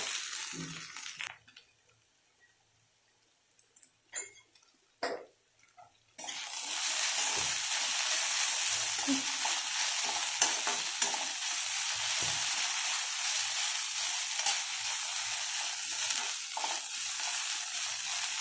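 Okra frying in a pan, with stirring knocks and scrapes at first and then a loud, continuous sizzle close by, alone and without talk.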